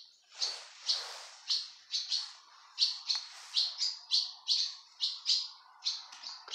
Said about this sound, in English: Look at the birds, look.